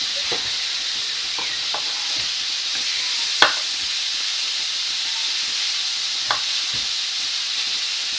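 Food frying in a pan while being stirred, a steady close sizzle and hiss with scattered scraping and clicking strokes of the utensil, one sharper clack near the middle.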